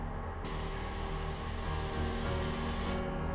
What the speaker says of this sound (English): Little half trigger pull on the gun. That'll just release air.